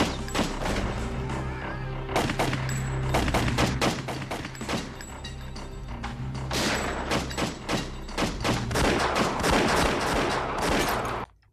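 Dense bursts of film gunfire from several shooters, rapid overlapping cracks and volleys repeating loud and close for over ten seconds with short gaps, no talk over it.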